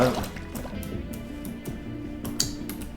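Water in the video game Minecraft trickles and drips in short liquid bursts near a sandy spot, with soft plops and a low hum underneath throughout.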